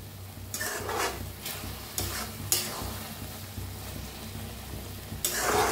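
Tomato and onion curry simmering and being stirred in a pan, a low continuous sizzle broken by several bursts of spatula scraping and clatter, close and loud, with no speech.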